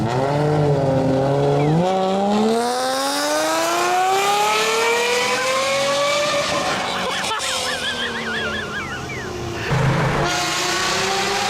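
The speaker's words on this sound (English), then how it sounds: "change the exhaust on the S600, and the sound it produced reminded you of F1 cars of past" A Mercedes S600 with an M120 V12 engine and modified exhaust screams up through the gears with a sharp, rising tone, then drops and climbs again, loud and sustained.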